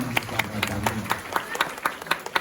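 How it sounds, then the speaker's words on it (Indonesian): Rhythmic clapping from the audience at a Balinese Drama Gong performance in Candi Kuning, sharp regular claps in unison over a low murmur of the crowd. "Tepuk tangan nih Candi Kuning."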